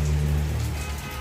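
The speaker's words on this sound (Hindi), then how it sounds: "ये बारिश अभी तक बंद नहीं हुई" Heavy rain falls steadily outside in Canada, a dense, even hiss with a low rumble beneath, continuous and close throughout the short stretch with no voices.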